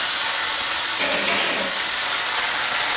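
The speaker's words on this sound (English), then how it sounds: "we're going to take our steak, and we're going to sear it in there" A 36 oz ribeye steak searing in a preheated pan gives a loud, steady, close hiss and sizzle that holds evenly throughout.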